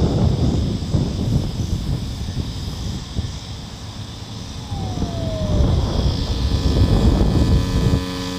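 A Freewing BAE Hawk 6s RC model jet flies on its maiden flight on a windy day, its electric ducted-fan whine rising and falling as it passes, with gusts buffeting the microphone.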